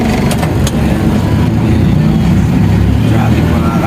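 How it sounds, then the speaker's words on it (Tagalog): Cars in a heavy traffic jam on the Skyway give a continuous low engine rumble and road drone with a few sharp transient clicks. It stays loud and steady throughout. "grabe naman yung traffic"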